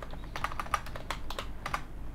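Close-up typing on a computer keyboard, a quick irregular run of sharp key clicks over a faint background hum, with no talking.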